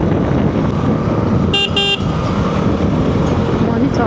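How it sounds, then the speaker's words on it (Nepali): A KTM adventure motorcycle horn sounds as a short double honk over loud road and traffic noise while the bike is ridden through town streets. "हर्न बजाउँदाखेरि चाहिँ क्लच पुरै छोडेर यसरी ट्याट ट्याट थिच्नुपर्छ"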